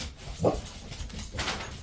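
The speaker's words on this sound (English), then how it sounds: "I do apologize for the dogs once again for barking." Dogs give a short bark or yip followed by another fainter one, somewhat distant in a home setting.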